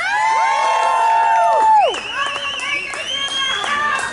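At an outdoor rally against the Mountain Valley Pipeline, a loud rising whoop opens, then a crowd shouts and cheers in overlapping voices, close and sustained.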